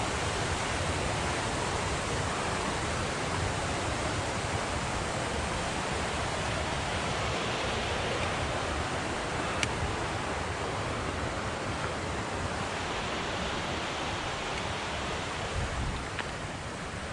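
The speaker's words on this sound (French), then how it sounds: "Pour une belle cascade." Waterfall beside a mountain hiking trail on a high traverse of the Belledonne range in the French Alps, a steady broadband rush of falling water that is constant and fairly distant, with no voices.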